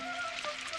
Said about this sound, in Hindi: अरे ये तो पहले से भी ज्यादा बारिश हो रही है।